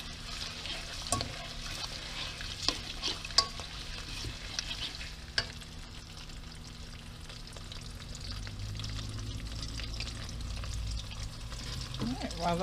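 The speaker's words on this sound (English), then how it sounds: "Get them sizzling." Chopped onions sizzle in hot oil in a pan on the stove, a soft, steady frying hiss running throughout, broken by a few clinks and stirring scrapes, close and fairly quiet with no talking.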